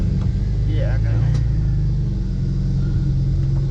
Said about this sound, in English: Now we're going for a test drive.